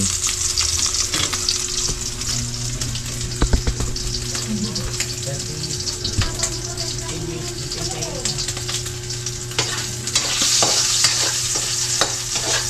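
Pork fat frying in its own grease in a pan, a loud, dense hiss and crackle running throughout, with occasional scraping stirs and a steady low hum beneath; a voice speaks briefly over it.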